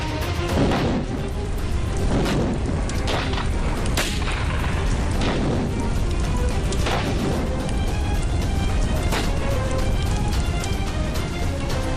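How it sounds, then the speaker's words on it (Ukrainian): A small explosion booms, followed by steady crackling, rumbling noise with a few sharp bursts popping through over the following seconds. "сила вибуху невелика"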